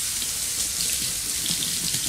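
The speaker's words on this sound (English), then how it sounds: "You put it in a strainer, run it under cold water." A kitchen tap runs cold water steadily over chopped onions in a strainer, a continuous close hiss and splash with no talking.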